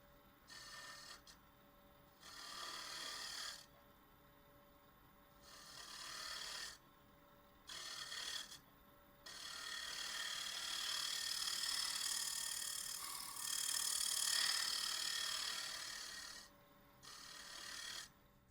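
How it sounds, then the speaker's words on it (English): A negative rake scraper works over a turned holly wood box on the lathe, a close rasping scrape in repeated passes of a second or more, broken by short pauses under the spinning hum. "I'll do my final cleanup with a negative rake scraper with a profile that's a little closer to matching the bottom of this"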